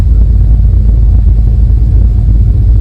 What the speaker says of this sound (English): The low rumble sounds like a generator running in the distance.